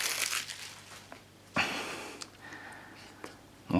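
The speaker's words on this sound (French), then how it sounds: "Voilà, donc je le déballe devant vous." An iPhone 5S box being opened with a basic kitchen knife: quiet crinkling and scraping, with a sharp tearing burst midway and a few soft clicks, close and fairly faint.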